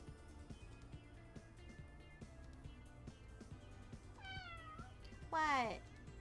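A pet cat meows close by at feeding time, giving a couple of rising, drawn-out cries, the second louder, over quiet background music.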